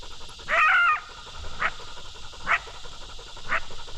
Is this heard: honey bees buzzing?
no